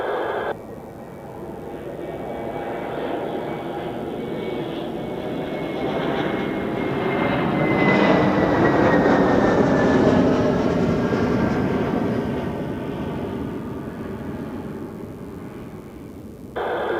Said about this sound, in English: The A321 Neo from Beirut.